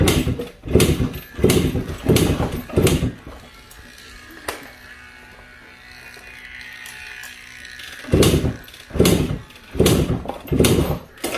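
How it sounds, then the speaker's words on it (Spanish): A Suzuki AX100 motorcycle with the ignition switched on is kicked over repeatedly, several loud chugging bursts in a rhythm, then a quiet pause before more failed kicks; the engine never catches. "Me puedo pasar el día pateando. No prende."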